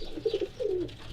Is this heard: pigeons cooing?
yes